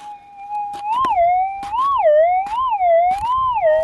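Metal detector signal tone responding to gold while prospecting for gold specimens in Australia; a warbling, wavering electronic tone rising and falling repeatedly, loud and close, with faint clicks and handling noise beneath.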